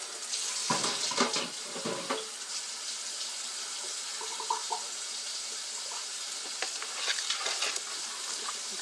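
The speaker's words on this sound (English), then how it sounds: "Give them a quick rinse." Potatoes are rinsed under a running kitchen tap, producing a steady hiss of water with sloshing and splashing bursts as they are handled, close and alone.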